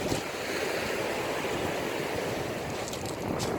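Waves wash steadily onto the pebbly beach at the Lyme Regis seafront in Dorset, a constant broad roar of surf with no talk, loud and close.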